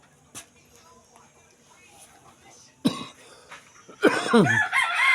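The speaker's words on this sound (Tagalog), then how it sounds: "Inuubo pa ako" A short cough near the start, then a louder harsh cough or throat clearing, followed by a rooster crowing loudly nearby.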